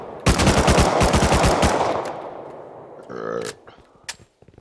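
Video game gunfire rattles off in a loud, rapid automatic burst, followed by a few scattered single shots and quieter game sounds; a voice briefly speaks near the end.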